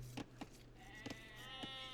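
Sheep bleating in an Age of Empires–style strategy game, four or five short bleats spaced unevenly over a low steady hum, fairly quiet with no talk.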